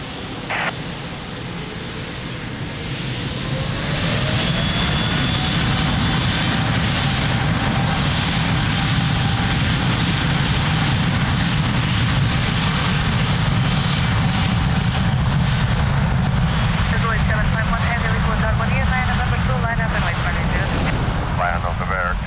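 An airliner roars down runway 02 at Lisbon Airport on its takeoff roll, a steady loud jet rumble that swells after a few seconds and holds, with radio chatter audible over it.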